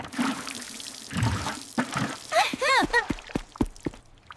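Water is poured to mix a new batch of building material, with a few splashy gurgling bursts and trickles in a cartoon setting, broken up by short knocks and high squeaky character voices.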